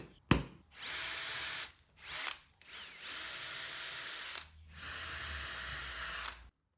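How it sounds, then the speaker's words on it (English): Power drill boring pilot holes for screws into the back of wooden mailbox panels, running in three sustained whirring bursts with short pauses between them, close and fairly loud with no talking. "drilled pilot holes for the screws"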